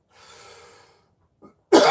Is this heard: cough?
yes